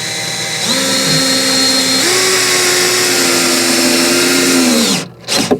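A power driver sinks toe screws through a timber cap into a post, a loud steady whine that steps up in pitch as the screw bites, then stops abruptly near the end, followed by brief handling knocks.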